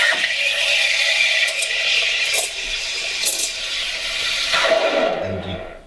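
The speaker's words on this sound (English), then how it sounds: "you're going to be pulling it down until you hear a sound like a shallow kind of screaming sound" Espresso machine steam wand steaming milk for latte art at the correct depth, giving a steady, shallow high hiss with a few brighter bursts, close and continuous for about six seconds with no talking.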